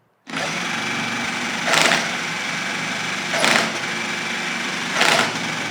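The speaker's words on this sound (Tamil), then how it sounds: "இதில் ஜென்ரேட் ஆகக்கூடிய வோல்டேஜை வச்சு நம்ம இந்த ட்ரில்லிங் மிஷினை மறுபடியும் சுற்ற வைக்கிறதுக்கு ட்ரை பண்ண போகிறோம்." An electric drilling machine spins up abruptly, then holds a steady high whine. Its pitch and loudness surge three times at regular intervals, close and loud, with no talk.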